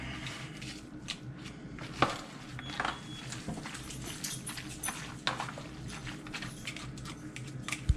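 Smoked pork butt from a Traeger pellet grill being shredded and mixed with bear-claw forks, giving a steady run of close, irregular scraping, squishing and clattering strokes with a few sharper knocks, and no talk.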